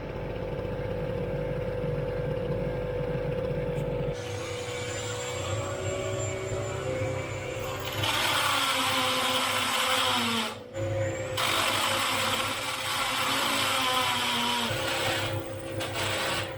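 A small portable mini-generator engine runs steadily close by with a droning hum. About four seconds in, a power drill joins, boring holes under load with rising and falling whine over the engine noise.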